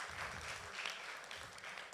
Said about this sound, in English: If you could give them a round of applause again